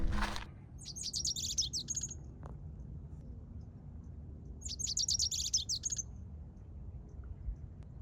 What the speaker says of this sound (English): surrounded by singing birds